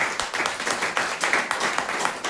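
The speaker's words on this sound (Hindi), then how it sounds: "तो चाय के सर के लिए जोरदार तालियां।" A room of people at a training session breaks into brisk applause, the claps forming a dense, rhythmic patter at moderate volume. The clapping is short, lasting only a couple of seconds.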